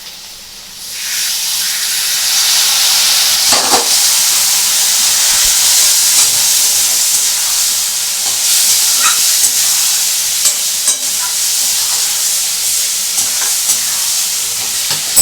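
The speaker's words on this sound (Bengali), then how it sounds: "এবার এটাকে একটু ভালো করে নাড়বো।" Bengali aloo paneer curry fries in a pan with a loud, constant sizzling hiss, while a spoon stirring the mixture adds occasional scraping knocks throughout.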